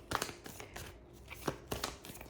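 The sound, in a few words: shuffling tarot cards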